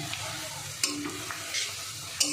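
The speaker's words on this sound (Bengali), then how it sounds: "দেখুন কত সুন্দর ভাজা হচ্ছে বন্ধুরা" Oil sizzles steadily as potato balls fry, broken by a few sharp clinks of a utensil stirring in the pan.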